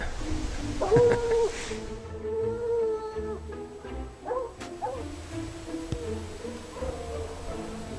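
Hunting hounds on a mountain lion track in Colorado bay and yelp in drawn-out, wavering howls, several dogs overlapping at moderate distance with short barks between.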